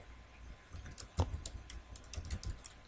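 A computer keyboard clatters with quick, uneven keystrokes while data is entered in a spreadsheet, close and moderately loud, with a few heavier key presses standing out.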